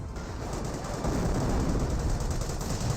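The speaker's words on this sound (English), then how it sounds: "There's the incendiary mortar" Incendiary mortar and surrounding combat fire in the World War II strategy game Company of Heroes: dense, continuous booming gunfire and explosions, loud and close, with a heavier surge after the first second.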